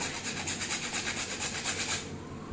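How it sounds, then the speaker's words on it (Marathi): Nutmeg is grated for ragi laddu in a quick run of close, soft, rhythmic scraping strokes, about a dozen in a row, then stopping, with no speech. "जायफळ किसून घेऊया"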